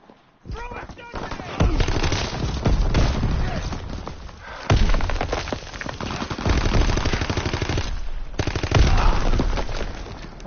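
Sustained, loud machine gun bursts in the video game Call of Duty WW2, rapid repeated volleys with short pauses between them, mixed with explosions and in-game voices calling out.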